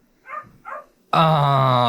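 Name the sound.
dog barking in a played video clip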